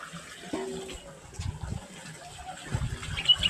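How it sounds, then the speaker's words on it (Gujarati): Water from an irrigation pump outlet gushes onto a millet field, a soft, uneven outdoor splashing and burbling heard fairly faint with a few louder surges. "આ બંબો પડી રહ્યો અને બાજરીનું પાણી વળે રહ્યું."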